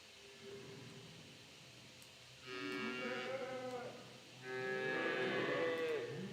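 Cattle moo in a video game, two long drawn-out lows a moment apart, fairly close and clear over a quiet ambient background.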